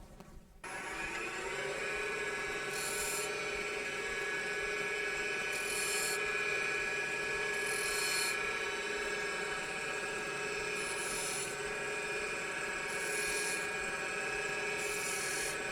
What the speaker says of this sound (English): we're going to make a couple of marks with a skew and use a wire to burn those